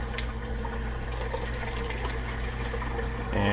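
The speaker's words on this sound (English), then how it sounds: "we're going to fill this up with cold water" Cold tap water runs steadily into a spray bottle that already holds a little vinegar, a continuous close hiss that swells slightly at the end as the bottle fills.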